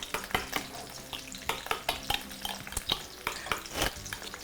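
Fried smelts being stirred in a frying pan, with a steady sizzle under a string of sharp scraping and tapping strokes from the utensil against the pan, close and fairly quiet.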